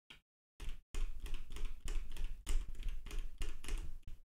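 Fingers slide and tap across the buttons of a hitbox arcade controller for a Tekken 8 backdash, giving close, rapid clattering clicks in dense bursts separated by short pauses.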